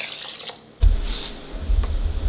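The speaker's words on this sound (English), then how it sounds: "I'm going to go ahead and add a little bit more water" Water poured into a pot of minestrone soup, a brief splashing gush with soft liquid sloshing and drips, close and fairly loud.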